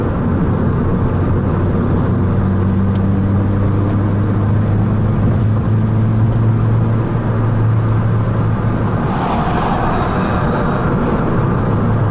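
A Mitsubishi Colt CZT turbo hatchback drones steadily from inside the cabin, a loud continuous low engine and exhaust rumble with road noise, the pitch shifting slightly as it runs, with no distinct pops or bangs.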